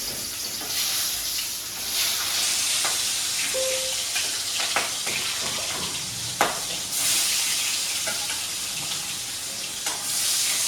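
Steady hissing sizzle of fish frying in a hot wok, with occasional clinks and scrapes of a utensil; no talking.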